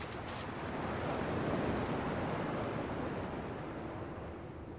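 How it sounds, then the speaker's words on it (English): Ocean waves in the Kingdom Hearts video game, a steady broad roar of surf that swells and recedes gently, loud and continuous with no speech. "At least the waves sound the same."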